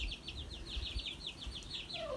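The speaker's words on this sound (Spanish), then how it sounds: "Son pollos. No son guajolotes." Chickens cluck in a quick, steady series of short calls, fairly faint and close by, with a soft outdoor murmur behind them.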